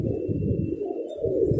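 A pigeon coos in a low, throaty burble, close and continuous for a moment, with a faint high tone in the background.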